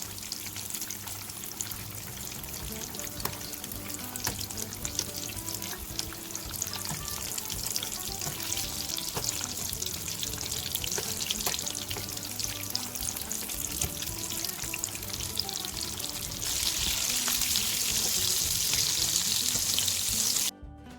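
Potato cheese balls deep fry in hot oil over a high flame, a loud, dense, continuous sizzle and crackle that grows slightly brighter toward the end, with no voices.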